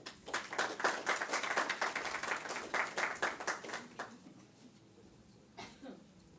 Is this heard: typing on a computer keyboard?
no